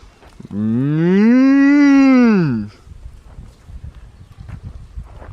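A single long, loud cow moo from cattle beside a hiking route on the Florida Trail, rising and falling over about two seconds. Quiet rustling outdoor ambience follows.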